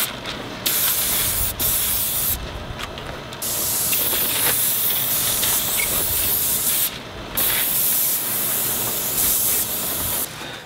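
A paint sprayer hisses loudly in long continuous bursts while spraying paint onto stucco, cutting off briefly a few times before resuming with the same steady spray.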